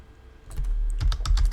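Typing on a computer keyboard, a quick burst of crisp close key clicks and thumps in an uneven rhythm that grows busier toward the end, alone without talk.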